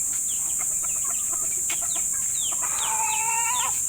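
Hens clucking and a rooster crowing near the end, over a constant high hiss and background noise.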